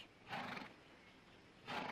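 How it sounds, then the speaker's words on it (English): Two breathy, rising horse whinnies sound at a distance, separated by a pause, over a faint background hiss. "There's a fine lot of horses here."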